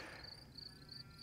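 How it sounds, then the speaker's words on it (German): Crickets chirp at sunrise in the South Tyrol countryside, a faint, distant pulsing trill repeating steadily over quiet outdoor ambience. "man hört eigentlich nichts, nur die Grillen und Vögel"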